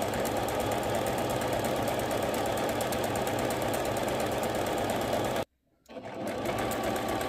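A sewing machine stitches piping onto lace at a steady, loud, fast mechanical rhythm, stopping abruptly for about half a second before starting again and continuing to run.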